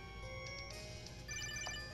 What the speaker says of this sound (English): Oh, we're getting a phone call.